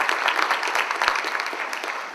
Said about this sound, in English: Big round of applause for Tony O'Doul